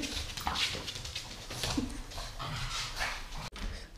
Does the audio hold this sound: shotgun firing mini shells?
no